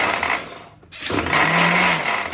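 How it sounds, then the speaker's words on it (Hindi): A kitchen mixer grinder whirs briefly while blending fresh mosambi juice, cutting out for a moment before starting up again with a loud buzzing spin. "अब इन दोनों को मिक्सी में साथ में पीसना है"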